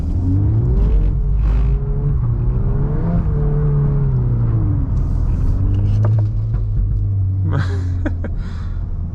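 A Volkswagen MK8 Golf R in drift mode spins counterclockwise donuts, its engine rumbling and revving in rising and falling waves, with tyre scrub and brief higher bursts near the end, close and loud throughout.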